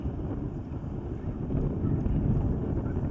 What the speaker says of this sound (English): we're starting to hear the wind pick up as we're here on this very exposed backside of the course